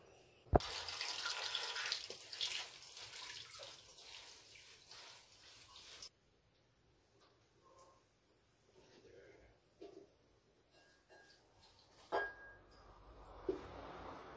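Water pours into a blender for a moringa drink, a bright rushing splash for the first several seconds, then fainter drips and small clinks in a quiet kitchen.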